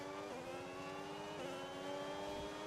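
An F1 car engine in the F1 26 video game holds a high, whining rev that climbs and wavers over a couple of seconds, steady and fairly quiet.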